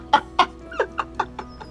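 A person imitates a chicken with a quick series of about seven clucking calls, loud at first and fading toward the end, with no talk over them.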